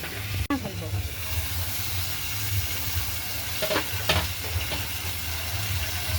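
Tengra fish cooking in a covered pan, a continuous steady hiss of steam and sizzle close by, with a sharp knock near the start and a few faint clinks.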